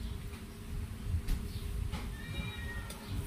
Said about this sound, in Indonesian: ada kucing, ada anjing, kalian dengarkan bunyinya